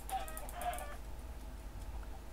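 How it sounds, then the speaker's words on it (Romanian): Several chickens in the Minecraft Tekkit game cluck in short, clipped bursts early on, then fall quiet over a low steady hum. "Sunt vreo 3 găini aici, bă."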